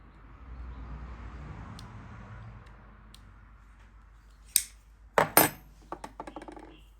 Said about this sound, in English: Just pop that washer off of it.